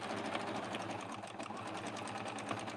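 A sewing machine stitches fabric binding with a steady, close, fast mechanical whirr and rapid needle patter running throughout, with no talking.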